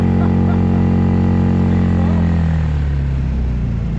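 A 6 hp Storm outboard motor on an inflatable boat runs loud and steady, a continuous droning hum whose pitch dips slightly as it keeps going.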